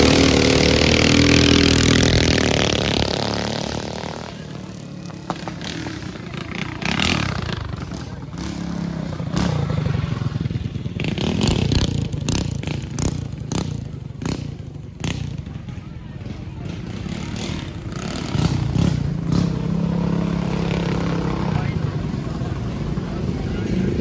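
Harley mini bike engine at a mini bike race in Symco, Wisconsin, revving and buzzing loudly in uneven surges with sharp throttle bursts, while people talk over it.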